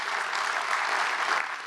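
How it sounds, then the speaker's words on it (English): A crowd at a Long Beach city event gives the city council a short round of steady, even applause, moderately loud and without voices. "so I want to give them a round of applause as well"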